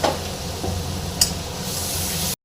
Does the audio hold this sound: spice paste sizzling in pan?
yes